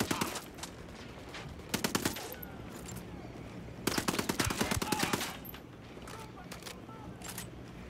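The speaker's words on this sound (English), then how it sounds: "I'm opening fire on these shitheads." Repeated bursts of automatic gunfire from the video game Ghost Recon Wildlands, with several loud rapid volleys separated by short pauses and some scattered single shots.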